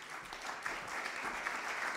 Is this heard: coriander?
no